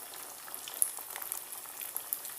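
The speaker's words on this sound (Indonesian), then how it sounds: "Minyaknya sudah mulai panas dan lumpianya bisa kita masukkan" Lumpia spring rolls sizzle in hot oil in a wok, a soft, steady crackle with scattered pops, heard close up and fairly quiet, with no talking.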